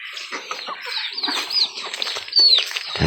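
Busy farmyard chatter of several chickens clucking and squawking, a bright rising call near the end, no talking.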